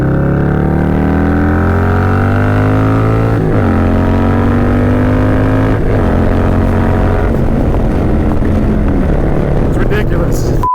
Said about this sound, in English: I'm sure you guys can hear when I'm accelerating there